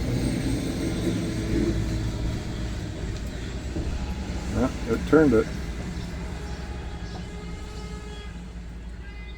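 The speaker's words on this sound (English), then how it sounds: "Sorry about the traffic noise out there." Road traffic rumbles outside a van parked in a driveway, a steady low drone with a louder vehicle passing midway, while someone talks briefly over it.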